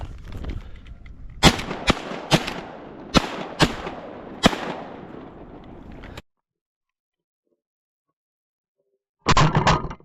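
Shotguns fired at ducks during a late-season Texas duck hunt, six sharp loud blasts at uneven intervals over a few seconds, followed by silence and then a brief burst of noise.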